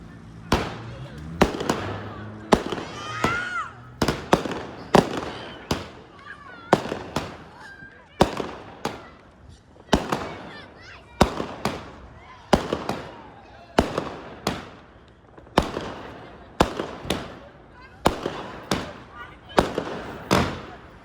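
Fireworks and firecrackers going off in a New Year fireworks battle: a long run of loud, sharp bangs and pops at irregular intervals, some close and some farther off, with people shouting and talking between the blasts.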